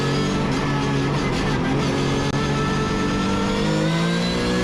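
Porsche 944 race car engine revving hard and accelerating on the Zandvoort circuit, a loud, steady mid-pitched roar with shifting harmonics held close throughout, no talk.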